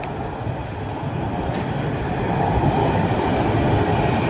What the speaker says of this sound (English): There is a tram